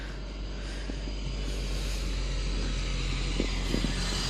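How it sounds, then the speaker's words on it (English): A car passing on a country road while riding a horse, its engine a steady broadband rumble with wind-like hiss that builds gradually, heard fairly close with faint hoof-like thumps and no talk. "it's the same car. I don't know why it's making more noise than it was earlier."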